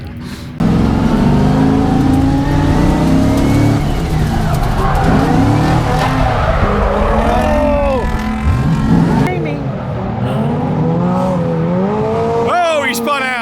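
An LS1-swapped S13 drift car screeches and revs through tandem drifting, with loud tire squeals and sweeping engine pitch over sustained road noise, while people talk over it.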